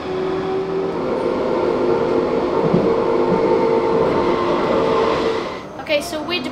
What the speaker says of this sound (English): Okay, so we're departing from Kurpińskiego tram stop.